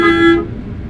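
A truck horn in Euro Truck Simulator 2 gives one loud, steady blast lasting under half a second, then cuts off, leaving low engine rumble beneath.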